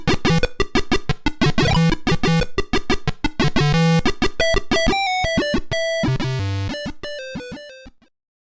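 Late-1980s PC game music played through a sound card, a busy chiptune-style synth melody with quick repeated notes and a bass line, loud and continuous for about eight seconds before stopping.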